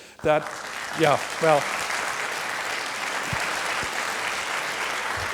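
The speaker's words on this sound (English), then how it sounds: "I can see the spontaneous applause thing is going to work really well." Scattered audience applause at a university debate on taxing the rich, starting after a few brief vocal bursts, then settling into a steady, moderately distant clapping that carries on to the end.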